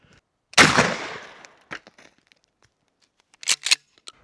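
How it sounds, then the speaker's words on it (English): A sharp, loud blast from a 12 gauge slug fired through a 590A1 Blackwater shotgun into hockey pucks, decaying over about a second, followed by faint clicks and a few brief knocks and clatters. "12 gauge slug versus hockey pucks."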